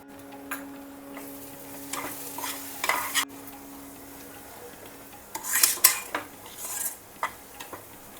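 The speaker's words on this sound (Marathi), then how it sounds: "इथे आपली अद्रक लसूण पेस्ट देखील छान फ्राय करून झालेली आहे" Ginger-garlic paste with turmeric, red chilli powder and pav bhaji masala stirred in a sizzling pan, with close scraping and clinking spoon strokes in bursts over a low fry hiss, no talking.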